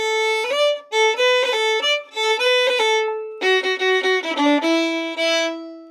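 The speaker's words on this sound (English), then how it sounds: "which is actually quite a common fiddle embellishment to add on any tune" A fiddle plays a short tune phrase of bowed notes, with a quick ornament from a dropped second finger added to the melody. Clear, close and solo, with brief gaps between groups of notes.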